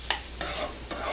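A spatula stirs sliced onions frying in vegetable oil in a pan: three scraping strokes in a quick rhythm over a constant close sizzle.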